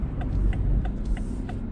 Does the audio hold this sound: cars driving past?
yes